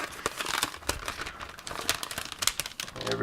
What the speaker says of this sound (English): we're going to take the plastic off these guys here